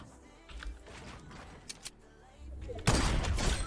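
Gunfire in the battle royale game Fortnite: a few quiet shots early on, then a loud, dense burst of firing near the end, with faint chatter mixed in.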